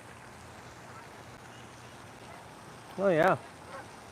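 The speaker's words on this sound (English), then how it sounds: "Here's the ducks." Ducks along a sidewalk on an evening walk give a short burst of quacking, loud and close for a moment, then a faint call follows over steady outdoor background noise.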